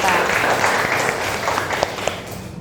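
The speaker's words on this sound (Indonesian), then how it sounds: "Kita beri tepuk tangan dulu buat kita." A seventh-grade science class in Indonesia applauds briefly, a cluster of quick claps over a noisy room with voices mixed in.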